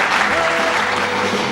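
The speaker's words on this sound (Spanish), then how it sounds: "Fuerte el aplauso." Loud, dense studio audience applause for the arrival of Uruguay's Minister of Social Development on a TV talk show, a steady wash of many hands clapping throughout with no pauses.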